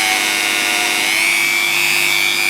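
A hand-held rotary tool polishes a small fire opal stone held in the hand, giving a steady, close, high-pitched whirring grind that holds constant throughout with a slight pitch shift and no talking.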